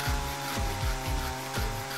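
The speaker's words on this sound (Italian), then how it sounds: "Devo segare!" Rhythmic back-and-forth rasping of a hand saw, about five or six strokes in two seconds, close and steady with no talking.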